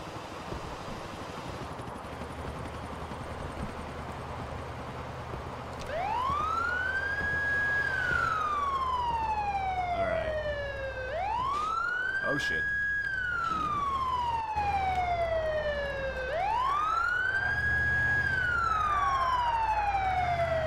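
Wailing ambulance siren from the video game GTA IV with a fire fighter mod, rising and falling in three long sweeps, loud and close, over a steady engine and road rumble as the vehicle drives.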